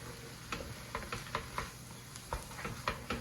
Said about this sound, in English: I'm gonna stir that, just kind of incorporate everything